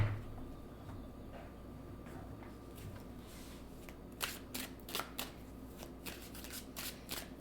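Tarot cards are shuffled by hand, with a soft low rustle at first, then a series of crisp riffling snaps and card slaps in the second half, near and fairly quiet.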